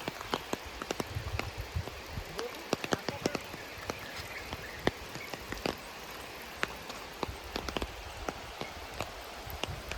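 Steady rain falls and patters on a surface by a dammed stretch of water where fishing nets are cast, with scattered sharper drops tapping throughout and no voices.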